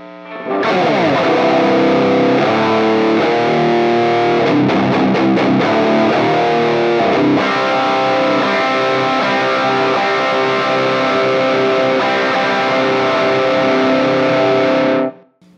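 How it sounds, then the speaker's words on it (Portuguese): Electric guitar through a Tacape Krank in a Box distortion pedal, a heavily saturated riff that runs continuously and loudly for about fifteen seconds, close and dense with no talk, then stops abruptly. "E esse aqui é o som do pedal."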